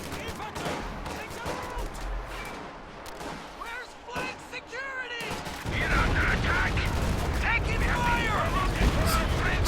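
Artillery barrage in Company of Heroes 2 with booming shell impacts and crackling gunfire, heavier in the second half, under a voice talking over the game.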